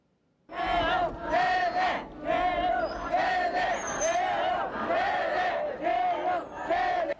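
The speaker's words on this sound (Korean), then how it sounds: "광주의 민주화 함성을 전두환은 유혈 진압했습니다" A crowd shouts in loud, rhythmic chants during the 1980 Gwangju pro-democracy uprising, repeated bursts of many voices rising and falling together, close and energetic.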